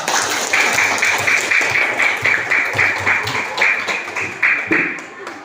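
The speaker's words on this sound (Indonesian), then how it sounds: "berikan aplaus dulu kepada kelas kedua" Classroom applause from a seventh-grade social studies class in Indonesia, a dense steady patter of many hands clapping for about five seconds with a teacher's voice faintly underneath.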